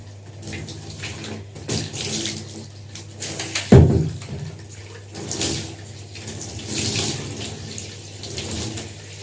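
Water runs steadily from a shower or tap while shampoo is rinsed from hair, a continuous close splashing wash with one brief louder splash near the middle, no talk.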